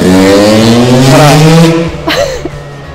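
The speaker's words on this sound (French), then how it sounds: "Bye la moto" A motor vehicle roars past close by, a loud engine tone rising and then fading away over a few seconds, with no talking.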